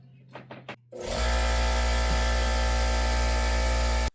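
Air compressor in a workshop kicking on after a few short knocks, then running as a loud, steady motor drone with a constant hum, close by and alone for about three seconds before stopping.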